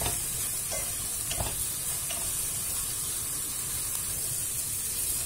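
Tomato paste sautés in a pan with a steady, bright sizzle and hiss. It sounds close and continuous, with a few faint stirring scrapes and no voices.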